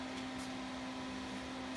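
Electric space heater running steadily in a freezing garage, a constant hum with a strong low tonal drone and broadband fan-like hiss, continuous and close with no talk.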